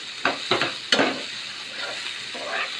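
Vegetables with grated carrot stir-fried in a pan for veg fried rice, three sharp spatula scrapes and tosses over a continuous moderate sizzle, with no talking.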